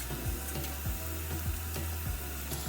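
Ginger garlic paste sizzles in a hot pan with browned ingredients, a dense steady frying hiss punctuated by regular low knocks of a spoon stirring against the pan.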